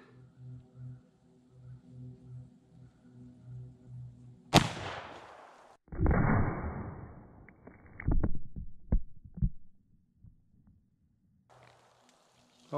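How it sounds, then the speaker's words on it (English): An 1847 Colt Walker black-powder revolver fires a 220-grain Lee bullet into milk jugs outdoors, with one sharp loud report followed by a burst of splashing and clattering debris, then quieter knocks. "Colt Walker, shoot it into these milk jugs."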